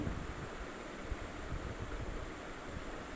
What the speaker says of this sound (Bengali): দেখেছো ঢেউ আসছে কেমন